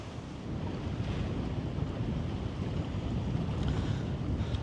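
Wind and building waves on Little Green Lake heard from a fishing boat, a steady low rushing roar of chop and gusts buffeting the microphone, with no voices.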